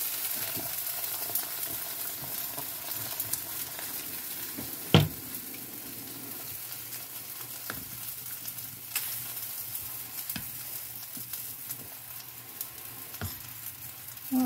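Water bubbling at a steady boil in a pot on a stove, ready to be poured over felting material; a continuous close sizzling, frying-like hiss with occasional small knocks and pops, no voices.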